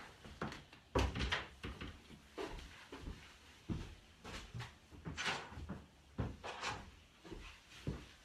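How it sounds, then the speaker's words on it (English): A household door is pushed shut in a home office, with a run of soft knocks, bumps and handling thuds scattered irregularly at moderate distance. "Let me just close the door."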